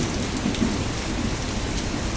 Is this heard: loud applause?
no